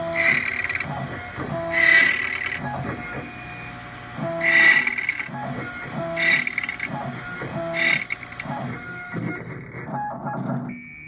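An ITL 9700A key originator cuts a Medeco key with a carbide blade in repeated bursts of high whining grinding, separated by mechanical clicks and ratcheting as the carriage moves.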